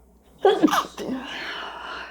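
A single loud sneeze bursts out close by, followed by a soft breathy trailing exhale.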